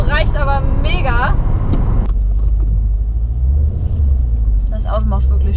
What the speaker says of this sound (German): Das war übrigens gerade meine erste Launch Control.